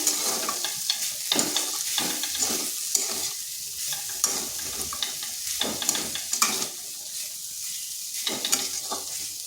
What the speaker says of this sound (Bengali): এরপর আদার সাথে আলুটাকে আর একটু ভেজে নিচ্ছি